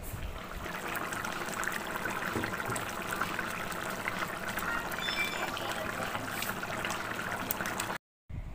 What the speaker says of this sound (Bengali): তারপরে এর মধ্যে কিন্তু আমি গরম জল দিয়ে দিলাম